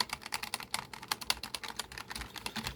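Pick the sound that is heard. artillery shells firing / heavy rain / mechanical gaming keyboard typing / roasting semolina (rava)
mechanical gaming keyboard typing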